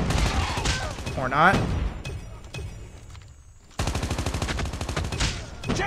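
Rapid automatic gunfire from a gun in Call of Duty Mobile on the Scrapyard map, loud and dense in sustained bursts with a brief lull, while a player talks over it.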